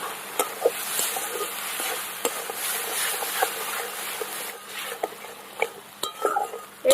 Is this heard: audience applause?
no